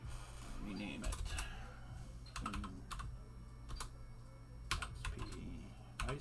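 Close computer keyboard typing while renaming a folder during a Windows XP install on a Dell OptiPlex 9010, with short bursts of key clicks spread across the clip and a person talking in between.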